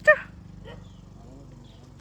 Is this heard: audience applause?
no